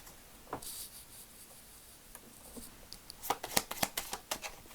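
A deck of playing cards being shuffled and cut during a tarot-style card reading, with soft riffling and a burst of rapid, close crisp card flicks near the end.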